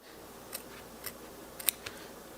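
Small scissors make a few faint, crisp snips while trimming embroidery thread on a face mask in a 4x4 hoop, one sharper cut standing out in a quiet room.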